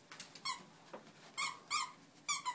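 A squeaky toy squirrel for a puppy squeaks in several short, sharp bursts, sometimes in quick pairs, close and clear against a quiet room.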